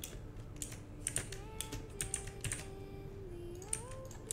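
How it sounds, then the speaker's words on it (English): Quiet, close computer keyboard typing in short irregular bursts of light key clicks, alone, with a faint background hum. "so we'll type a text"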